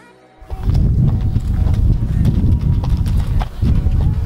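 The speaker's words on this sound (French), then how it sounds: "on a été faire marcher les chevaux dans le cross et on les a fait brouter." Horses being walked through a cross-country field clop their hooves in a steady, close, loud rhythm after a quiet start, with no voices.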